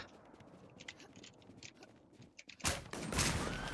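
Gunfire in the online survival shooter WarZ: a faint scatter of shots comes first, then a louder, denser burst of rapid fire near the end. There is no talking.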